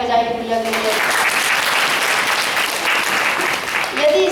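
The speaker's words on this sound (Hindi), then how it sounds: "तालियां बजाइए भैया के लिए" An audience applauds during a Hindi lecture on personality development, a dense, steady wash of clapping that fills several seconds, with a voice briefly heard at the start and again at the end.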